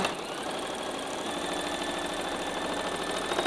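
A sewing machine runs steadily while stitching 2.5-inch quilting fabric strips together with a 1/4-inch presser foot, giving a continuous, even mechanical hum with no pauses, close and moderately loud.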